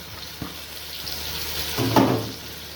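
Washed lentils, a quarter kilo, sautéed in a pot for Egyptian lentil soup, giving a soft steady sizzle with a few scraping stirs and a louder burst of frying near the end, with no talk.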